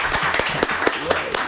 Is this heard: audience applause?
yes